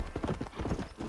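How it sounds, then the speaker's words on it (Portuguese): Horse hooves clip-clopping at a steady ride along a trail in the Red Dead Redemption video game, a repeated rhythmic patter of close, moderately loud hoofbeats with no talk over it. "esse caminho aqui a gente pode percorrer a cavalo"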